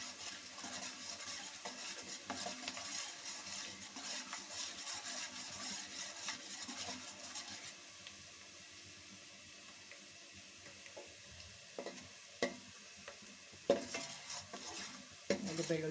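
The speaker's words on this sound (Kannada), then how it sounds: "ಬೆಳ್ಳುಳ್ಳಿ ಇಷ್ಟು ಫ್ರೈ ಆಗಿದೆ." Garlic fries in a pan for street-style fried rice, a soft broad sizzle that thins out halfway, followed by scattered light clinks and scrapes of stirring; quiet overall with no talking.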